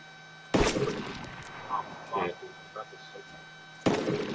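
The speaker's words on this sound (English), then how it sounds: "Oh, no, they're shooting at me." DayZ gunfire: two sharp, loud single shots a few seconds apart, with someone talking in between.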